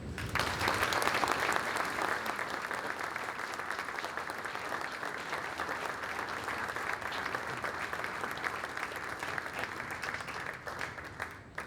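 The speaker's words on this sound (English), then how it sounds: "please give a round of applause for this year's Steiny Award winner, Mr. Jay Oliver" Audience at a society dinner gives a long, sustained round of applause for an award winner, a full, even roar of many hands clapping that holds steady for about twelve seconds before thinning out at the end.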